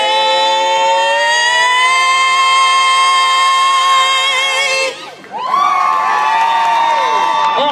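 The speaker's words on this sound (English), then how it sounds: "Hey, nice cheer, love that." A crowd at the Herne Bay Christmas lights switch-on cheers loudly with long, high whoops and sustained shouts, briefly dipping before a second swell of voices rises again.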